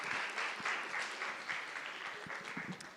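Students in a university auditorium clap for their classmates, a fairly faint, somewhat distant patter of applause that stays steady before tapering slightly at the close.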